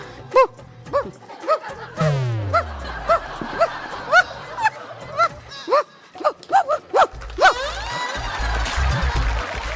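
A person imitates a dog barking as if chasing a cyclist, a run of loud, rhythmic voiced barks and yips on a stage show, mixed with audience laughter and chatter.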